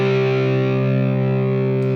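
An electric guitar plays a heavily distorted power chord with the sixth string muted, holding one loud, steady tone that buzzes close up with no voice over it.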